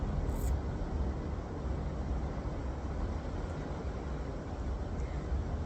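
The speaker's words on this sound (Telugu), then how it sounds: "వాటర్ వేవ్స్ అయితే పెద్ద పెద్దగా వినిపిస్తూ ఉంటాయి" Sea waves wash near a beach room in the Maldives in daytime. It is a continuous soft, broad roar of surf at low level with no voices.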